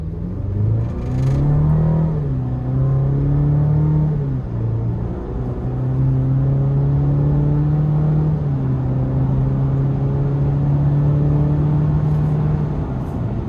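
Chevy Colorado ZR2 TurboMax pickup engine pulling under moderate throttle in normal mode, a steady low growl rising and easing in pitch over several long pulls, close and continuous with no talking.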